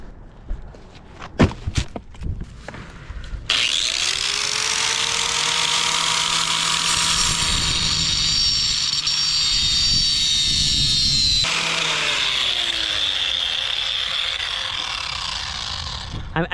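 A chainsaw with teeth removed from its chain cutting into wood: a few sharp starting pulls and clatters, then a loud, steady high engine whine under load for several seconds, easing and shifting pitch toward the end.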